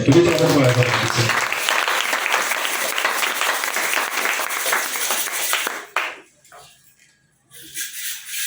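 A church congregation at a francophone revival service bursts into loud, sustained applause and cheering, which fades after about six seconds into near silence before faint voices return.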